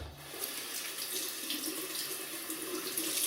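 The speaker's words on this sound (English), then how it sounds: "Right then, so just rinse off." Water running steadily from a tap into a sink to rinse a Muhle R41 double-edge razor, a close, bright continuous splashing rush with no voices.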